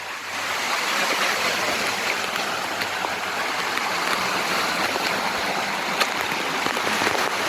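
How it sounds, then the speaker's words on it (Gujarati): A heavy monsoon downpour in the Girnar hills of Junagadh roars as a constant, loud, broadband wash of water that stays even from start to finish with no voices. "ફૂલ વરસાદ ફૂલ"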